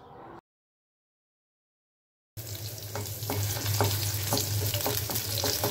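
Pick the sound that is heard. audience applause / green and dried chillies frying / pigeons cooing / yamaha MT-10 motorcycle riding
green and dried chillies frying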